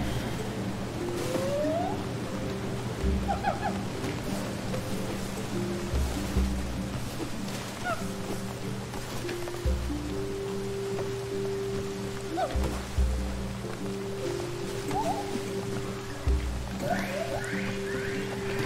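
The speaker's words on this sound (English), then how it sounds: "Rain gives nice atmosphere." Steady rain ambience in the forest game Gibbon: Beyond the Trees, a continuous wash of falling rain with tonal ambient layers and occasional low thumps beneath it, no talking.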